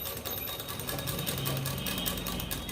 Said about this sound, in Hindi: और फिर सिलाई चलाएं।